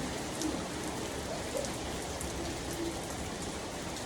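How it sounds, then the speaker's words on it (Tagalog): Steady rain falling on a surface, a soft, continuous patter that stays even and fairly faint, with a few bird coos faintly in the background. "Ulan-ulan oh. Ulan na po."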